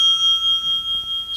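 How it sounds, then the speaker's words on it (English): A debate timer bell at a local debate rings out as one bright, sustained metallic tone. It is loud and close and slowly decays across the whole moment with a faint pulsing, and no one speaks. "When you hear the bell,"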